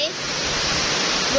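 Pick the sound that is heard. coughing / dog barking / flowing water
flowing water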